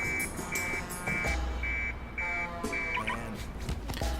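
A forklift alarm in the video game Hitman, set in Sapienza, sounds repeated steady electronic beeps, about seven evenly spaced pulses at a moderate distance over a low background hum.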